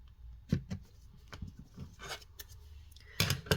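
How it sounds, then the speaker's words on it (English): Scissors snip through a paper page for junk-journal ephemera, giving a few sharp crisp cuts with short rustling gaps between them, close and fairly quiet. "I'm going to go and cut up this page"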